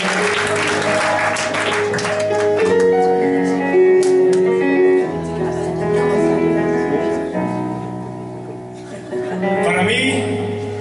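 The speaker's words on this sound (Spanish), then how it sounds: "el aplauso no solo para el casino, sino también para vosotros" An audience applauds at a gospel concert in the Casino Kursaal, a steady wash of clapping blended with sustained music and held tones that fill the whole stretch.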